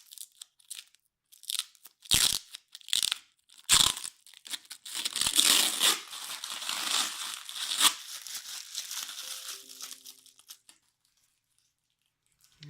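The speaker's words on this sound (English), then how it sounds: "We've got some protective tape type stuff to pull off" Protective tape and plastic wrapping crackle, crunch and tear as they are pulled off a new Novatech Pro NSI37 desktop PC, coming in repeated close bursts of crinkling and ripping that die away near the end.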